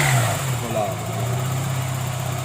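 Mazda Miata engine revving with a slipping alternator belt, a steady mid-pitched motor hum near the mic with a faint belt whine rising and falling briefly, and a voice talking over it.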